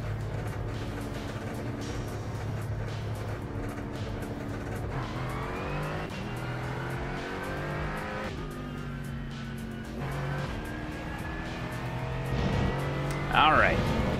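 Race car engines in the iRacing sim game, a sustained engine drone with rising and falling gear-change pitch sweeps and occasional tire squeal, with a voice talking over it.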